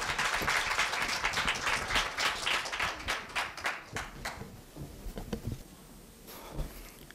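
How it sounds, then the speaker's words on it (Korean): Audience applause for a student speaker at a middle school speech festival, fairly soft clapping from a small crowd that tapers off over several seconds, ending in a quiet room. "큰 박수 부탁드립니다."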